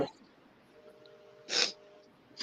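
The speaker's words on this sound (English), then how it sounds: "I'm going to sneeze." A single sharp, close human sneeze bursts out mid-clip in a quiet room, with a faint second burst starting right at the end.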